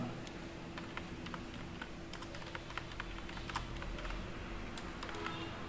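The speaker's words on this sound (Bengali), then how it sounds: "ওয়ার্ডপ্যাডে যাওয়ার পর আমি একটু জাস্ট আপনাদের সামনে বাংলা লিখবো" Bangla text being typed on a computer keyboard in WordPad produces a faint, continuous patter of quick, irregular key clicks over a low background hum.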